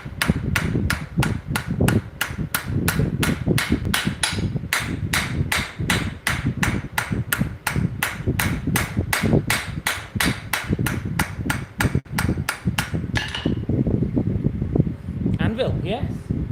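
Hammer forging hot metal on an anvil with rapid, even, ringing strikes repeated for many seconds, close and loud, then a short pause before a few more blows, with a voice talking under the hammering.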